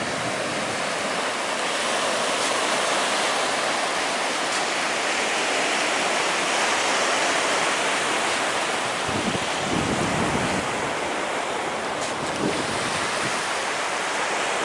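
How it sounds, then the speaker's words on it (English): Surf rolls onto the north beach of Honeymoon Island in a steady, continuous roar of breaking waves, with wind buffeting the microphone throughout and no voices. "This is the north beach of Honeymoon Island"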